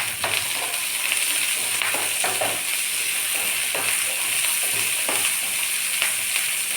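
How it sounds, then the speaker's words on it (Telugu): Karonda berries tipped into onions frying in a pan, a steady loud sizzle with scraping and stirring knocks throughout. "ఇప్పుడు మనం బాగు చేసి పెట్టుకున్న వాక్కాయలు వేస్తున్నాను"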